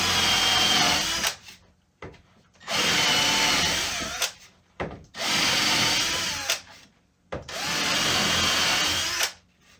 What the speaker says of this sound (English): You can see, drills real nice holes, even just being resharpened on that.